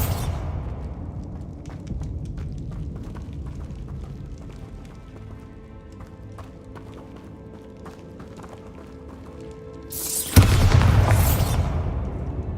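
A Bombarda spell explosion in Hogwarts Legacy: a sudden loud booming burst near the end, following a stretch of quieter game sounds and footsteps.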